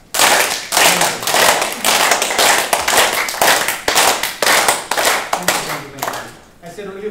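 Yoga conference attendees clap fast in a run of rapid, loud, rhythmic bursts that ends in a short dip, with a voice speaking at the close.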